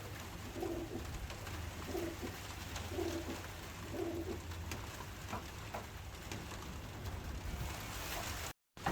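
Racing pigeons cooing inside a loft: a soft, repeated coo phrase about once a second over a steady low hum and rustling, fairly faint, ending in a brief dropout.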